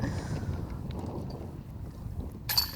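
Wind gusts across a disc golf course at the 2018 Jonesboro Open, a steady low rumbling buffet against the microphone that holds throughout and ends in a brief sharper clatter.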